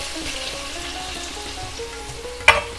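Onion frying in a big pot, a steady close sizzle and crackle of oil with a brief clatter near the end.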